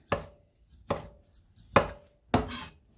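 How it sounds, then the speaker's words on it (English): Four sharp knife strokes chop through sausage on a board, each a crisp close thud spaced unevenly about half a second to a second apart, with no talking. "so you can see me chopping up the sausage"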